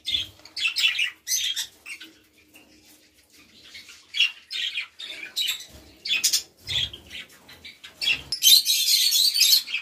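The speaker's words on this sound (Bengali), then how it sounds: "দেখুন দেখুন এই দেখুন পাখিরা খাচ্ছে, সব সব খাচ্ছে" Pet birds fed leafy greens give bursts of squawks and chirps at close range, with some wing flutter and a rising chatter toward the end, and no talk.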